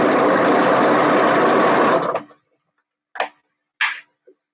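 A sewing machine runs steadily at close range for about two seconds, then stops, followed by a few brief clicks and knocks.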